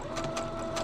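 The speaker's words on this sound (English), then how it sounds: "I'm going to sew a 1/4 inch seam just down one side of this" A sewing machine runs steadily, stitching a quarter-inch seam along the side of quilt-block fabric pieces, its motor hum close and continuous with a faint rhythmic chatter of the needle and no talking.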